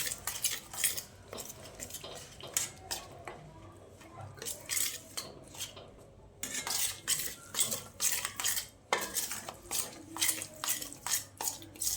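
A spoon scrapes and clinks repeatedly against a metal pot while warm sorghum flour batter is stirred together with jaggery, giving an uneven run of close, sharp stirring knocks and scrapes.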